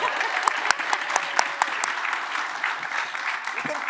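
An audience at a talk on cities of the future breaks into steady applause, many hands clapping together at moderate loudness, with a few sharper individual claps standing out.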